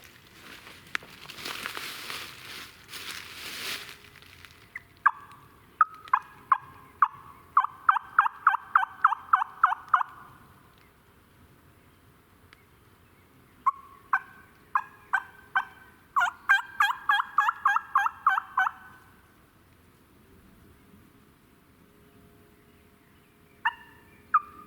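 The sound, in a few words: turkey call imitating a gobbling turkey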